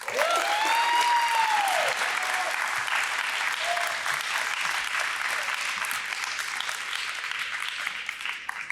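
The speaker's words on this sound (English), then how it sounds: "let's give Joseph a big round of applause" A crowd at a high school college signing event applauds steadily, a continuous wash of clapping that holds at even loudness, with a rising voice or cheer briefly heard near the start.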